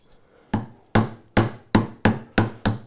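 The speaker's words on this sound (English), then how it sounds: "Now I'm going to have to go to a smaller chisel, a 1/2 inch would work fine." A half-inch chisel is struck with a mallet while chopping out a dovetail recess in wood, giving seven sharp, evenly spaced knocks at a steady rhythm, close and clear with no talking.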